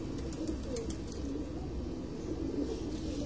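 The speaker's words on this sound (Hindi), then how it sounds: "ये एक नायाब कबूतरी है, देखिए" A rare hen pigeon, a cross-bred female, coos in a low, continuous murmur, close but soft, with faint higher chirps from other birds in the background and no speech.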